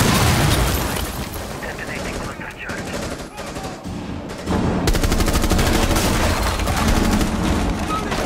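A cluster charge detonating in Rainbow Six Siege, a burst of rapid successive blasts and heavy gunfire-like bangs that swell loud in the second half of a chaotic, continuous game soundscape.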